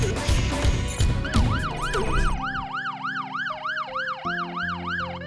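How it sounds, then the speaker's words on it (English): An ambulance siren sounds just past midnight in Medina, Accra, Ghana. After a busy, noisy opening, a loud, close wail rises and falls in quick regular cycles. "It's just gone past midnight in Medina, Accra, and the ambulance is finally here."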